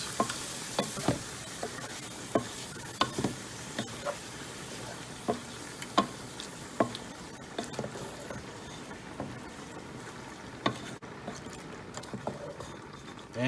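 A spoon stirs creamy tomato shrimp rotini with tomatoes in a pan, giving soft repeated scrapes and taps at an uneven rhythm over a faint sizzle, with no talking.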